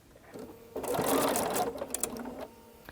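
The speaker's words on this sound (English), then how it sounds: "Stop and pivot and stitch right off that corner." Sewing machine stitching fabric with a binding ruler, a steady mechanical whir that rises for about two seconds and then slows and stops, close and fairly quiet with no talk.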